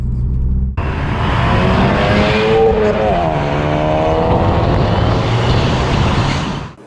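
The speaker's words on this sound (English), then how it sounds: "to me it sounds like the older 5-cylinder Focus ST motors, which I love the sound of" A 2016 Ford Focus ST with a 2-litre turbocharged four-cylinder engine, revving loud and close with a deep, grunty rumble that swells, dips and rises again before cutting off.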